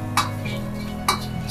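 Fish frying lightly in a pan with mango and ghee as it is turned over, giving two short clinks of a utensil against the pan over a low, steady background sizzle, with no talking.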